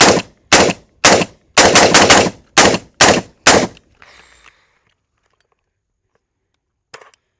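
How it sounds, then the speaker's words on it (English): Gunfire from an MK18 or BM15 AR-style rifle: about eight sharp, loud shots in a quick, slightly uneven string, followed by a brief rattle of mechanical handling and then quiet. "The shot and the actual, I'm going to say ejection of that bullet is very,"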